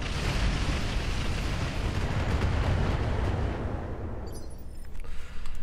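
Incendiary weapon fire and explosions in the BattleTech game Roguetech: a dense, roaring rumble of blasts and burning continues loud and steady, then thins out toward the end, leaving scattered crackles.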